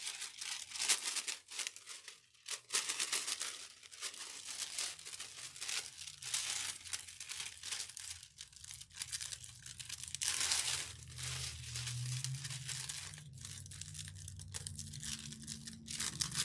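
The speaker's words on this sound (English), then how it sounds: "now you get to do what I call the peel and reveal" Metallized foil transfer sheet slowly peeled off a DIY garden gazing ball, a long stretch of soft crinkling and tearing crackle in irregular bursts, close and fairly quiet, no talking.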